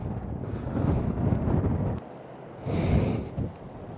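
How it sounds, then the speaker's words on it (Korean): Wind buffets a microphone outdoors on a motorcycle tour stop near Wolryubong, a loud low rumbling roar that surges, dips briefly midway, then swells again, with nobody speaking. "어우 바람"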